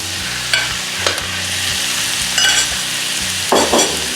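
Beef with garlic and onions sizzles in a pan as a steady stir fry, with several short scraping strokes of a spatula at intervals over the continuous frying hiss.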